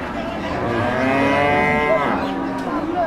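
A cow moos loudly in a long, drawn-out low call, close by, at a cattle market in Mirzapur, Tangail, with faint crowd noise in the background.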